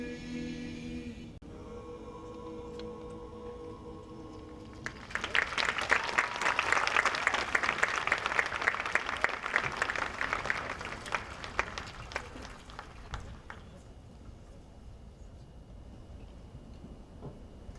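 Audience at a graduation ceremony breaks into applause for the choir after its song fades out, a dense, sustained wash of clapping that swells for several seconds, then thins into scattered claps.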